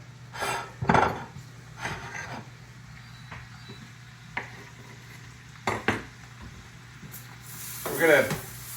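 Butter sizzles in a hot pan being turned back on, with scattered utensil clanks and scrapes and a brighter hiss near the end, close by, while a person talks over it.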